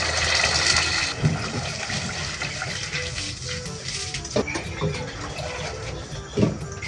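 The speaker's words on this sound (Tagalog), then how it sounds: "Dagdagan natin ng tubig." Water pours steadily into a pot, a continuous splashing rush close by, with a few small knocks and clinks.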